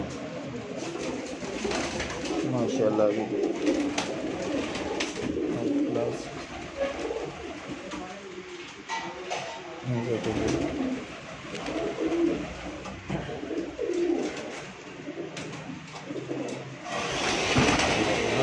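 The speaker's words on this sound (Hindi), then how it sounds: "ब्रीडर कबूतर है" Breeder pigeons of the pure Sialkoti breed cooing on a rooftop, repeated soft rolling coos close by with someone briefly speaking over them.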